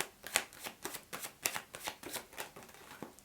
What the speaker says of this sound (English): Let's get a little bit more shuffling going on.